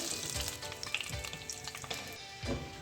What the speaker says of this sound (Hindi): इसी तरीके से मैं जो बाकी के पीसेज है वो भी फ्राई कर लेती हूँ।